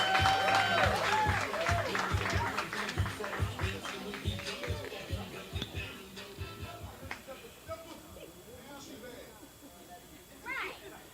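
An audience at a Black poetry slam applauds and cheers a poet heading to the stage, loud dense clapping with whoops that gradually thins and fades, a brief burst of cheering returning near the end.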